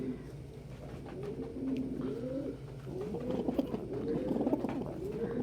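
A pet pigeon coos softly in a series of repeated low, rolling coos over a quiet room background, close to the microphone and with no speech.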